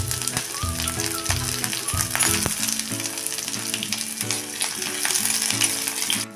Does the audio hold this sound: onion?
yes